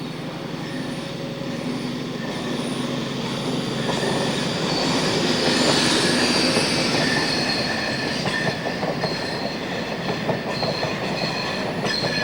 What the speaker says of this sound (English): Here is another shot of the 10:30 King's Cross to Aberdeen HST.